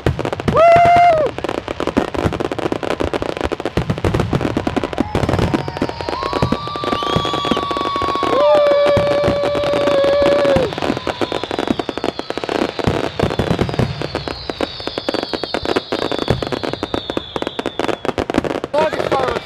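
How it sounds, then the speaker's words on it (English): A long fireworks show bursts continuously, with a dense stream of crackles, pops and rising whistles; people's voices are heard over the barrage. "Longest fireworks show ever, come on."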